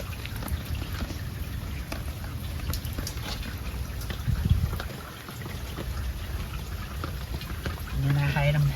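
Rain falls on a backyard garden of succulents, cacti and California native plants, with pots tucked under the eaves. It makes a steady, dense hiss throughout, with a few scattered sharper drops and a brief tonal sound near the end.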